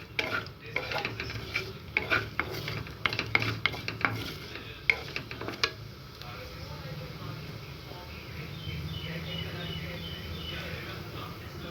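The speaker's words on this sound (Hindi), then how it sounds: "मेल्ट करने के बाद इसमें हम डालेंगे 1 चम्मच जीरा और आधा चम्मच सौंफ। इसको तड़कने देंगे।" Cumin and fennel seeds crackling in melted ghee, a run of sharp, quiet pops and spits over a soft sizzle, settling into a gentle continuous fry with a faint voice underneath.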